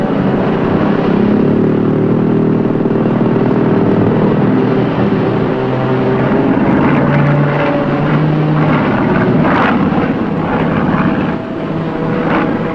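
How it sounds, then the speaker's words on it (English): A loud, steady propeller-plane drone fills the whole stretch, rumbling continuously as it passes overhead with no pauses, in the TV series Silent Service. "Control, there's a plane overhead."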